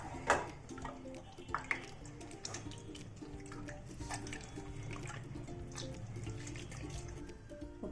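Tamarind being squeezed and dissolved by hand in a bowl of water for raw rasam, giving quiet wet squelching and splashing with a few sharper drips and sloshes, close and faint, with no talking.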